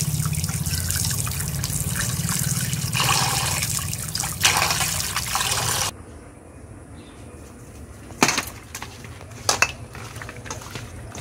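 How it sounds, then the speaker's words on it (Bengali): Boal fish being washed by hand with salt and water, a steady splashing run of water for about six seconds, then quieter handling with scattered sharp clinks of pots and utensils. "লবণ দিয়ে একটু চটকে চটকে ধুয়ে নিচ্ছে।"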